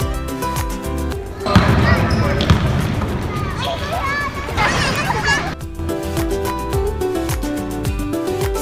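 A ball bounces in a children's alphabet song, giving several thumping bounces alongside children's voices and backing music with a steady beat.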